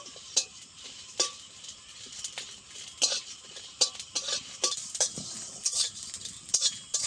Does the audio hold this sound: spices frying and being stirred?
yes